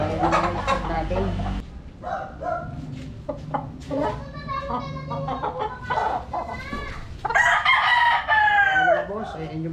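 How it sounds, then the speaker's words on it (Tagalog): A stag gamecock rooster clucks and calls nearby, then lets out a loud, full crow near the end, with other fowl sounds around it. "So ito yung isang stag natin. Ayan yung stag natin."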